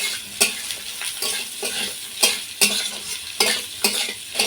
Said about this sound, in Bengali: সেই ডুমুরটা দিয়ে দিচ্ছি। তাহলে ওই তেলের মধ্যে একটু ভাজা ভাজা হয়ে যাবে।